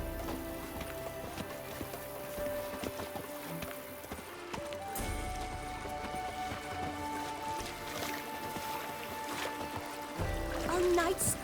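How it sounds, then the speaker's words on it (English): Horse hooves clip-clop at a gallop in the video game The Witcher 3, a rhythmic drumming under game dialogue and ambient music at moderate volume. "Even a horse drops if you ride it at a constant gallop."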